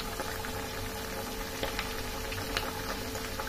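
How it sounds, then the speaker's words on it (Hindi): Leftover mixed-vegetable kachoris fry in hot oil in a kadhai, giving a steady, dense bubbling sizzle that stays even throughout with faint crackles and no voices. "अब इनको हम एक एक करके कढ़ाई में डालेंगे और इनको हल्का सा प्रेस करते हुए ऐसे फ्राई करना है हमें।"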